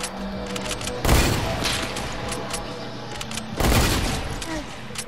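Gunfire from the Fortnite video game, with two heavy bursts of shots about a second and three and a half seconds in, between scattered lighter shots and game noise throughout.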